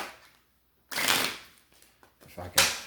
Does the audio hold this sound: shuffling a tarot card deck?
yes